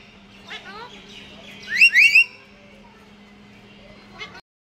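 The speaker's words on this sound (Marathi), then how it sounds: "माझ्या घरचं पोपटपंची आहे आणि खूप आवाज करतात" Pet parrots at home let out a brief cluster of shrill, loud squawks mid-clip, with a few softer chirps before and after over a quiet steady hum.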